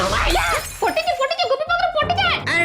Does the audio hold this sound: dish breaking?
yes